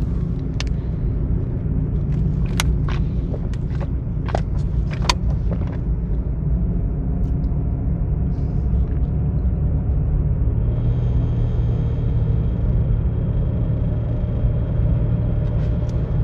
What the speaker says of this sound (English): as long as the car is making vibrating noises, I'm accelerating at an economical level of acceleration